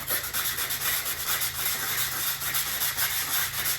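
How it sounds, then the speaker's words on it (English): Sandpaper rubs steadily against an arrow outsert while it is twisted, a continuous close scratchy abrasion with slight rhythmic pulses and no pauses. "So these fit tight, so I might have to sand this down a little bit."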